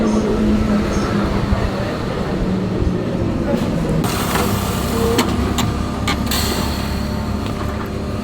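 A hot, crowded train ride in Paris heading toward the airport: a loud continuous rumble of rail travel with rattling and screeching, voices chattering over it, and sharper clacks near the end.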